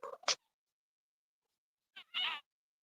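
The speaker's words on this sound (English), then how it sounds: "And he makes these little sounds. I think it might be a girl cat." Two short, high cat meows a couple of seconds apart, close by, with silence between them.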